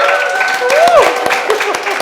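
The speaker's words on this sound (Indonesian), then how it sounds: "boleh tepuk tangan dulu semuanya" A crowd at an Indonesian film press event claps for an actor's film debut, loud and brief, with whoops and a rising cheer-like voice mixed into the clapping.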